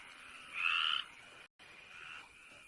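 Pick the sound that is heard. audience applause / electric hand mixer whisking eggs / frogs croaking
frogs croaking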